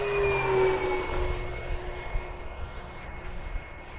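An FMS F7F Tigercat radio-controlled model airplane, La Patrona scheme, roars past fast and close with a steady high-pitched twin-motor whine that swells and then recedes, alone with no talk.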